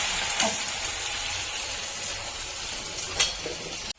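Spine gourd curry deep frying in a pan gives off a steady, close, broadband sizzle and hiss, with a couple of brief louder pops and no talk.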